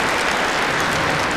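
Guests and visitors applaud at the Portugal pavilion of Expo 98 in Lisbon, a steady, dense wash of clapping from many hands throughout, with no voices on top.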